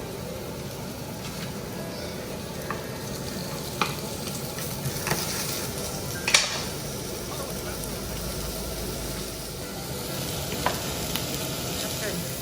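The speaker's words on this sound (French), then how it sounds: "On met la première fournée de champignons à l'intérieur et on laisse bien suer." Mushrooms sweating in a hot frying pan give a steady, close sizzle, with a few faint stirring clicks and taps above the hiss.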